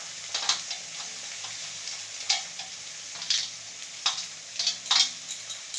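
Onion and green chili fry in a pan over a low gas flame, a soft continuous sizzle broken by sharp spitting pops and occasional stirring scrapes, close and fairly quiet.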